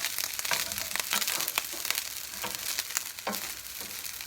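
Rice crackles and pops in a hot pan, with sharp irregular pops over a continuous sizzle and occasional stirring, close and fairly loud.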